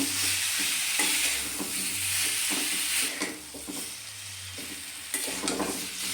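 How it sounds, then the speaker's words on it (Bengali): Boiled jackfruit is stirred into spices in a pan for echor kalia, with a spatula repeatedly scraping and tapping against the metal over a soft, steady sizzle close by. "মশলার সঙ্গে এঁচড়টা আমি ভালোভাবে মিশিয়ে নিচ্ছি।"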